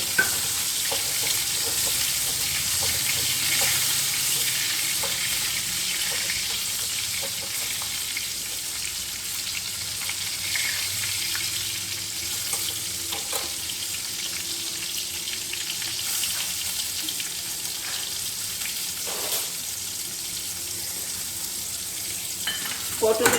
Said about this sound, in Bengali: পটলও ভাজা হয়ে গেছে